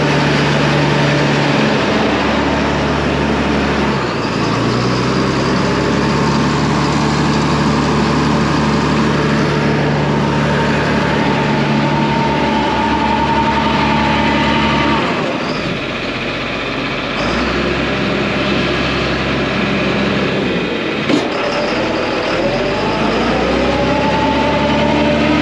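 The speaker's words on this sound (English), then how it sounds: "So this pump is really drawing the horsepower." A Husky engine-driven manure pump runs wide open under heavy load, producing a loud, steady low-pitched drone with slight shifts in pitch.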